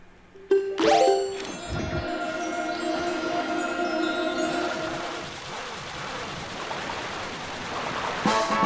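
Bright chiming jingle of a red rupee pickup in The Legend of Zelda: Wind Waker, a sharp ringing burst that lingers and fades over ambient sea and game background sound.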